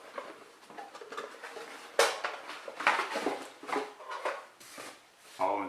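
A Sterno stove camping cook kit has its metal pots handled and taken apart, giving irregular clanks, scrapes and light rattles at close range.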